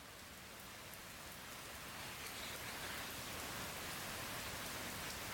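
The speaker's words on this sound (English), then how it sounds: "is raining hard again" Heavy rain pours down steadily as a dense, loud hiss, swelling slightly in waves, with no voices.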